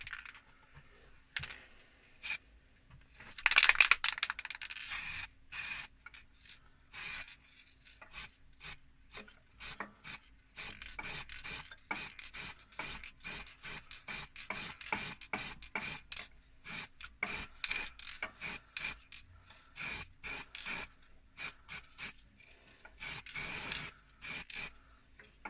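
Hand sanding a hornbeam platter with sanding sealer, quiet rapid rhythmic rasping strokes close up, continuing steadily with brief pauses.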